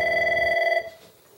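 An Avaya IP Office desk phone rings on an incoming hunt-group call, giving a clear electronic trill close by that sounds for under a second and then cuts off, leaving a quiet room.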